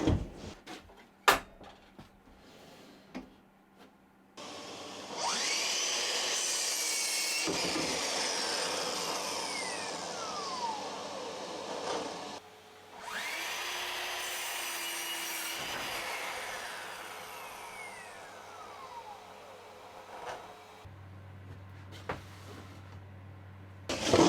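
A miter saw cuts wood in a workshop, with two long bursts of the motor whining and the blade chewing through the board, separated by short pauses and quieter clunks.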